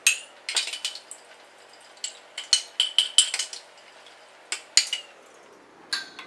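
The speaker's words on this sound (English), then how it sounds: "I'm going to stir it and see how this is." A spoon stirs mustard dressing in a dish, giving a run of bright, quick clinks and taps against the container in irregular clusters, close and moderately loud with short pauses between.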